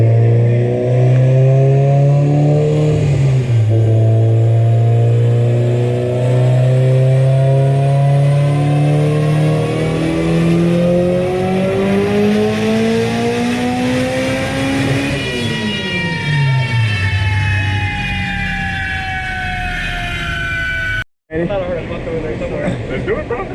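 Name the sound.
Toyota MR2 3S turbo engine revving on dyno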